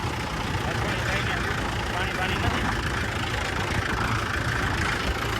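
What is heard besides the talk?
tractor engine idling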